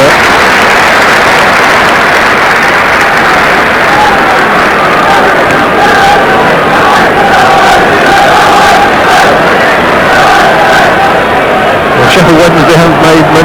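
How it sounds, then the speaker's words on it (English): A large football crowd at Hillsborough roars and applauds continuously, a dense, loud wash of clapping and cheering with no break, in an early-1980s Sheffield Wednesday match against Grimsby Town. "great applause all round at Hillsborough"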